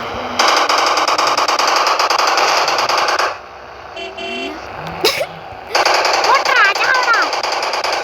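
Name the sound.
firecrackers bursting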